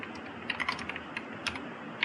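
Rapid keystrokes on a computer keyboard, quick uneven clicks in short bursts, close and clear with no talking.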